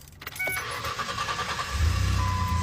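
A pickup truck engine cranks and catches at close range with the hood open, building into a loud, steady rumbling idle over the last second.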